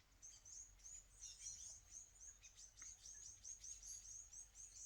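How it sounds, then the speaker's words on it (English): Little birds chirp outdoors in quick, high, faint twitters repeating throughout, over a low steady background hum, with no one talking. "The little birds chirping."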